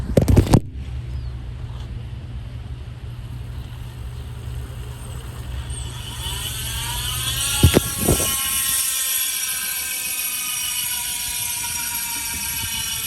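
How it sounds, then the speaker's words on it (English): A Bontrager RSL 62 rear wheel spins freely on a 2022 Trek Emonda SLR with 12-speed Dura-Ace, its freehub body giving a steady, fairly loud buzzing tick that runs on with no talk over it. "free up body sound test on this Bontrager RSL 62 wheel rear"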